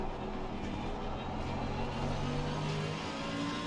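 A race car in Assetto Corsa Competizione passing close alongside on the right, a continuous engine drone and road roar that swells slightly as it goes by.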